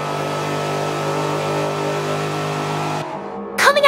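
In the Forza 7 racing game, a Mercedes AMG SLS engine drones at high revs with a steady tone while lapping Homestead. It cuts off abruptly near the end, followed by a short burst of rising, sweeping engine whine.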